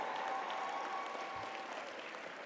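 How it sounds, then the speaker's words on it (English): An audience at an awards gala breaks into sustained applause, a dense wash of clapping hands that holds steady and fades slightly over a few seconds. "let's give them a round of applause and Macy's a round of applause for these outstanding outfits"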